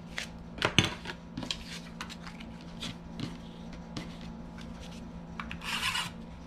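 A spatula presses and rubs across a papercraft card base on a work surface, giving a series of close, dry scraping strokes and soft taps with a few sharper clicks.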